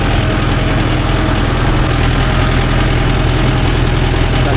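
A Mahindra Yuvo Tech Plus 585 4WD shuttle-gear tractor working a 9-tine cultivator over stony ground, its diesel engine a loud, close, steady low rumble with a constant rhythmic throb and no voices.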